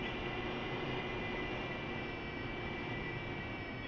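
Aircraft engine in a flight combat game drones steadily while taxiing toward the runway, a constant close hum with a faint high whine, no voices over it.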